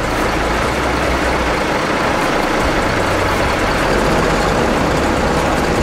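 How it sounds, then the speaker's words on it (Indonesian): Haryanto intercity bus bound for Cepu idling at Pondok Pinang terminal before departure, a steady loud low diesel rumble with dense broadband engine and terminal noise throughout, no voices. "Ini bus Haryanto tujuan Cepu, persiapan berangkat dari terminal Pondok Pinang."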